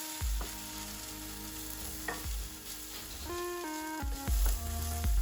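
Flour cooking in a frying pan as the base for an onion stout gravy for bangers and mash: a soft, even sizzle close by, broken by a few sharp knocks and ringing tones.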